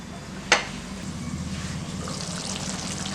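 A pot of tamarind yam curry with chilli powder simmers with a faint, steady bubbling hiss. Early on, a single sharp clink cuts through.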